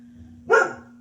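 A service dog gives a single sharp bark indoors at a noise in the hallway, a close, loud burst over a low steady electrical hum.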